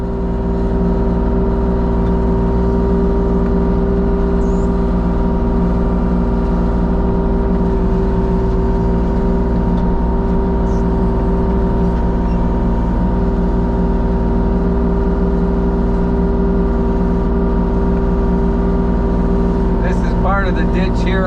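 Mini excavator working along fence lines, cutting brush up a steep hill: a loud, steady diesel engine drone with a constant tonal hum runs throughout, with brief scraping and crackling near the end.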